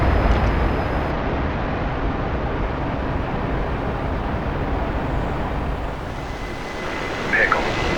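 A military jet roars through an attack run over Vietnam, a steady loud broadband rumble that holds throughout with faint radio-style voices under it.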